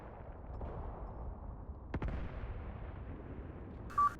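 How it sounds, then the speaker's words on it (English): Gunfire and explosions crackle through a dense rumble of battle noise in the World War II game Mius Front, with one sharp blast near the middle and a short electronic beep at the end. "Massive explosion here."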